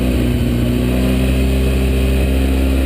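A motorcycle engine fitted with a Dobeck EFI fuel controller, tuned lean, revs steadily and loudly up close with a dense, continuous drone and no voices.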